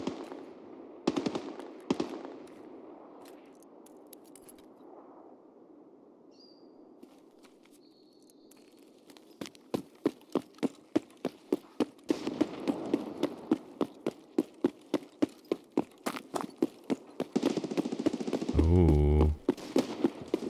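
Escape From Tarkov gunfire starts with a couple of isolated shots, then a long run of evenly spaced reports cracks out steadily over ambient noise, ending in a louder burst.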